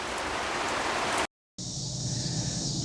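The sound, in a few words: rain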